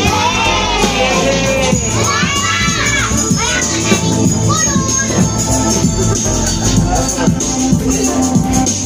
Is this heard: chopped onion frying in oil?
no